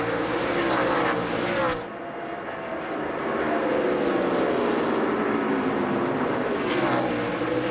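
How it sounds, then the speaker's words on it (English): Stock cars at the 2005 Sharpie 500 NASCAR race roar past on the inside, a loud continuous engine drone with a brief dip and swells as cars pass close by. "Cars going by on the inside."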